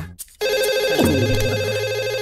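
A telephone ringing with a loud, bright electronic tone that starts abruptly and holds steady, close up, after a moment of near silence.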